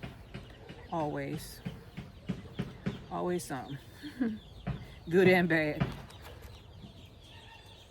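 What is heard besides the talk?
backyard chickens clucking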